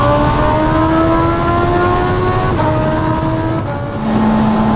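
A Honda CB650R with an Akrapovic full exhaust, baffles fitted, runs loud and close with a steady, droning exhaust note, pitch shifting slightly as the throttle eases near the end.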